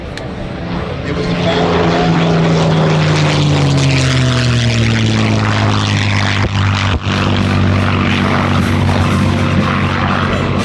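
A P-51 Mustang warbird's piston engine roars loudly at an airshow, a steady deep propeller drone whose pitch slowly sinks as the aircraft passes close by and moves away, filling the whole stretch without pause.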